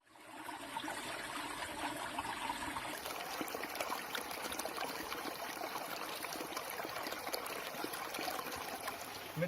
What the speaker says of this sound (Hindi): ये एक पहाड़ में से पानी रिस के आता है